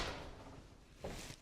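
Drawers on a kitchen range are slid open and shut, a faint soft slide followed by a muffled knock near the end, quiet and close.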